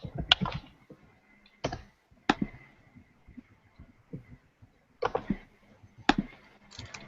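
A computer mouse clicks a handful of times at irregular intervals, sharp close taps separated by quiet gaps.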